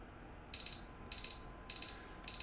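A game timer alarm from Red Dead Redemption 2 beeps in four evenly spaced bursts of bright, double-pulsed electronic tones, clear and prominent over faint background hiss.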